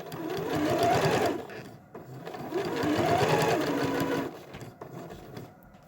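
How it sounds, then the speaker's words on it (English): A sewing machine stitches a quilt binding in two loud runs of rapid, steady stitching, separated by a short pause and followed by a quieter stretch near the end. "Let's stitch it."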